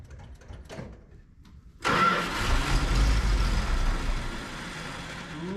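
An old RV engine cranks briefly and then catches, settling into a loud, rough idle that continues steadily with no voices.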